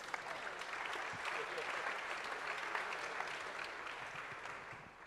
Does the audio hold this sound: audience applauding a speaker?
yes